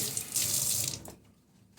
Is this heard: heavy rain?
no